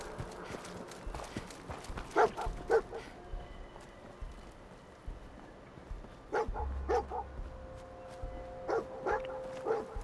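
The companion dog Dogmeat in the video game Fallout 4 barks in short clustered bursts of two or three, repeating several times over a game soundscape with footsteps.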